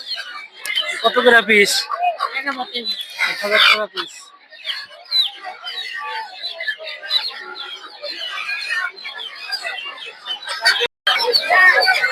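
Native chickens cluck and squawk at a busy rural poultry market, bursts of close clucking and fowl calls mixed with steady crowd chatter and people talking throughout.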